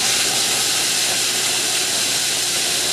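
Kitchen food processor running with its lid on while melted butter streams into a sugary crust mix, a steady loud hissing whir that holds constant, with no talk.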